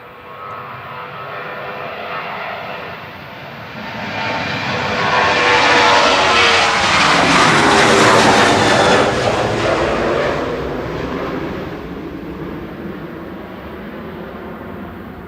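A Ryanair Boeing 737-800 jet departs Manchester Airport, its engine roar swelling from a steady rumble to a loud, broad peak midway before easing off as it passes, with no voices over it.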